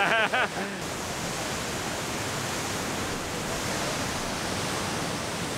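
Datanla Falls, a huge terraced waterfall in Da Lat, Vietnam, roars as a steady, dense wash of falling water, with a brief voice near the start.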